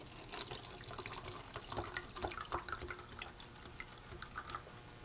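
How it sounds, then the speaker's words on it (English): Water pours onto a small model water wheel, a soft continuous splashing and trickling with scattered drips, fairly quiet and steady throughout. "As we pour water onto the wheels,"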